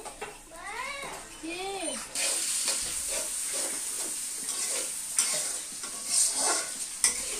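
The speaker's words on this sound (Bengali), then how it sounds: "তো এখন ভাজবো।" Food fries in a pan with a continuous hiss and crackle at moderate level, while a voice speaks briefly near the start and other faint voices come and go over the sizzling.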